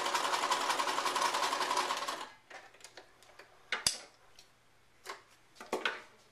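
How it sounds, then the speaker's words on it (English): A sewing machine stitches fabric pieces together in a fast, steady whirring run for about two seconds, then stops, leaving scattered clicks and faint handling taps. "you put them through the machine, sewing about 1/4 of an inch from the edge"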